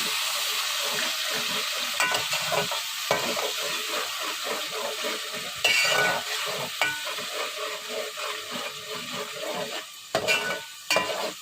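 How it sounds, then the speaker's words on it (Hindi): Garlic ginger paste fries in a pan with onions, a steady dense sizzle running throughout while a spoon stirs and scrapes, clacking against the pan in irregular bursts, close and fairly loud with no talking. "साथ ही इसमें मैं लहसुन अदरक का पेस्ट शामिल कर दूंगी। और इसे 1 मिनट के लिए फ्राई कर लेंगे।"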